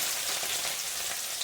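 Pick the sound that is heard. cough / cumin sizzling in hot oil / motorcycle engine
cumin sizzling in hot oil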